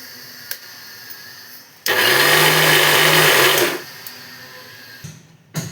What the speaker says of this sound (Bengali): এটাকে আমি এখন মিক্সির জারে দিয়ে পিষে নেব